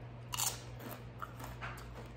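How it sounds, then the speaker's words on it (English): A bite into a Taco Bell Crunchwrap gives a sharp, close crunch near the start, followed by softer crackling chews over a steady low hum, with no talking. "All right, I'm gonna go in for this crunch wrap."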